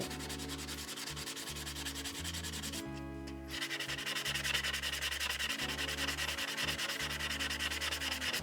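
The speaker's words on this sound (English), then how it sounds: "So clean the shoes up. I just got this bit of emery cloth" Emery cloth rubs steadily over scooter clutch shoes from a Peugeot XP400 in a continuous back-and-forth sanding rhythm, close and fairly quiet, with one brief pause partway through.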